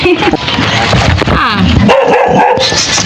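A dog barks and yips close by, mixed with voices and some whimpering; loud and busy throughout.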